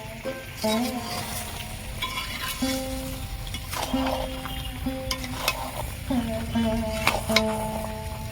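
Raw mango pickle with sugar, salt and spices cooking in a pan, stirred with a spoon that scrapes and clinks in repeated strokes over a low simmer while a person talks.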